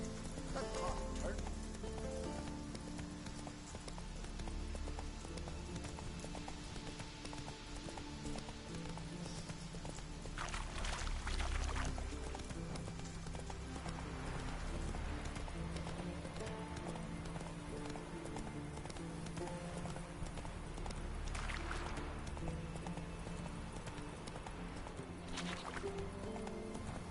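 Roach, the horse in the Witcher 3 video game, gallops with a steady rhythmic clip-clop of hooves over continuous game music and ambience, with an occasional whinny and brief bursts of louder activity.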